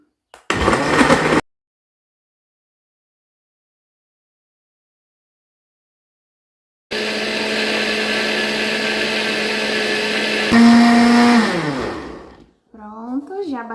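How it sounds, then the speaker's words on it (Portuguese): A blender mixing carrot cake batter whirs loudly for several seconds after a brief burst and a silent pause, then winds down as the motor slows. "vou tampar e vou bater"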